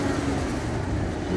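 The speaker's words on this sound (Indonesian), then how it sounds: "kita coba dengerin suara mesinnya kalau di gas kayak apa. Ini suara mesin 6 silinder twin turbo" Mercedes-Benz E400 AMG W212 with a 3.0-litre twin-turbo V6 revving, a steady loud engine roar held close without talk.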